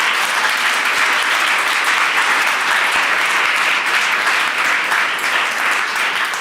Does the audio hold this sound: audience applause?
yes